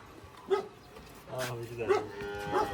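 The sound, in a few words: cow mooing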